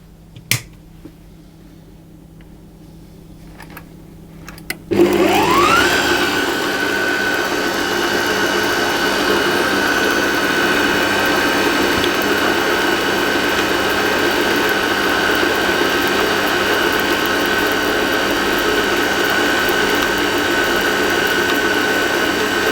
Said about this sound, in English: I'm going to turn the speed up to a medium speed, and I'm going to mix it until the dough comes together